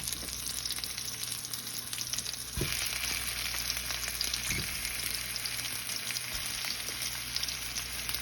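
Corned beef frying in a pan, a steady close sizzle and crackle throughout with a couple of soft stirring scrapes partway through.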